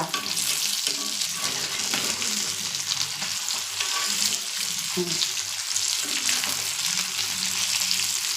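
Fish fries in a pan with a loud, continuous close sizzle and crackle, with brief stirring and turning noises partway through and faint talk in the background.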